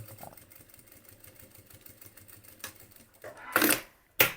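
A sewing machine stitches a seam on a fabric eyeglasses organizer, a steady rapid ticking run that stops, followed by two louder, brief rustling bursts of handling noise.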